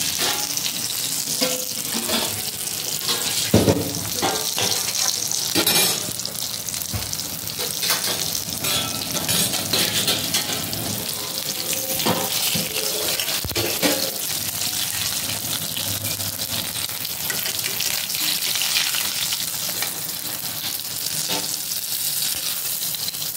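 Fish frying in hot oil in a pan, a continuous bright sizzle and crackle with occasional sharper pops and light utensil sounds, close and steady, no voices.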